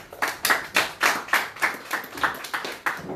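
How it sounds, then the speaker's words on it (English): Rhythmic clapping at a press freedom day event, roughly three claps per second, sharp and close, with only a few hands keeping an even beat. "once again, a round of applause for him"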